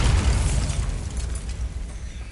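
A Bombarda blasting spell detonates in Hogwarts Legacy, a heavy booming explosion with a deep rumbling low end that decays over a couple of seconds, loud and close, with no talk.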